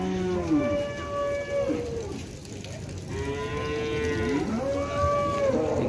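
A black Simmental cow moos loudly and close, giving two long, drawn-out calls with a brief pause between them and no other voices.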